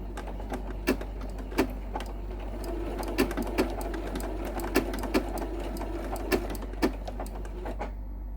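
A sewing machine stitches slowly around a raw-edge appliqué leaf, with a steady whirring hum and regular, distinct needle clacks close to the listener and no talking.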